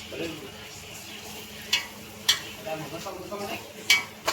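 Maggi noodles are stirred in a pan with a soft scraping sizzle, punctuated by several sharp metallic clinks of the utensil against the pan, and a voice talks faintly underneath.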